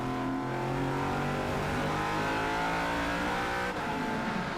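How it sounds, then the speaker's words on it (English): Endurance race cars, including a Ford and an Aston Martin, scream past in a 2017 FIA WEC race, engines loud and sustained with rising and falling pitch as they accelerate through corners. "Olivier Plas saw a gap and he too attacked, getting the 66 Ford alongside, dropping the Aston Martin from first to third in just 2 corners."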